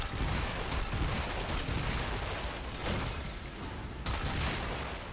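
Kuva Zarr Barrage shells burst in Warframe combat, a dense, loud rolling barrage of overlapping booms and crackling gunfire with sharp fresh hits at a few points.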